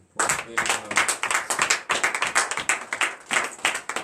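A church congregation at morning prayer claps together in praise. The claps come as a lively, uneven burst of sharp, close hand strikes in rough rhythm, lasting a few seconds, with faint voices underneath.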